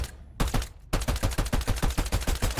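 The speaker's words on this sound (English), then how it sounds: "we hear some gunfire, so we can go take a look at it" Rapid bursts of video game gunfire from a Fortnite-style solos versus duos match, a steady fast rhythm of loud close shots with a brief pause early on, with no talk over it.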